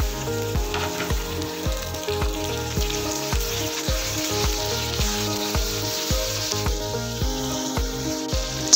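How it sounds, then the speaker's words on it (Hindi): Chicken and onions fry in a pan for biryani, giving a bright, continuous sizzle with stirring, mixed with rhythmic background music. "चिकन को 1 से 2 मिनट फ्राई करेंगे"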